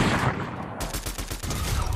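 Rapid bursts of gunfire in a solo ranked online shooter match, dense overlapping shots rattling loud and continuous for two seconds with no talk over them.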